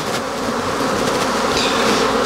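Honey bees swarming at the entrance of a beehive make a steady, dense buzzing drone, close and continuous with no pauses.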